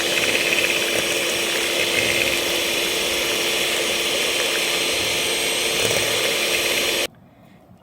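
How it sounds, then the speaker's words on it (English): An electric whisk mixes chocolate cake batter with melted butter, making a loud, steady, high motor buzz that runs continuously, then cuts off abruptly near the end, leaving near silence. "Now we'll whisk again."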